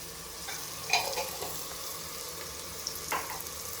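Ginger garlic paste fries in oil for a pressure-cooker biryani, a soft, steady sizzle with a few sharper spatters and scraping stirs, fairly quiet and without talk.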